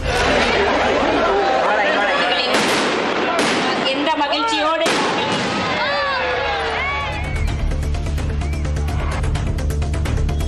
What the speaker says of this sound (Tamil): இரவு நேரத்தில் வண்ணமயமான பட்டாசுகளோடு அதிரடியான வான வேடிக்கைகள் நிகழ்த்தப்பட்டன